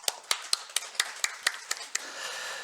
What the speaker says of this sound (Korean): 여러분 격려 박수 하겠습니다.